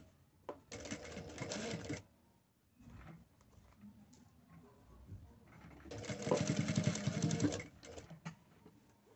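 Sewing machine stitching a seam on a two-colour 3D fabric mask, heard close in two quiet bursts of rapid, even chatter separated by a short pause and small handling noises.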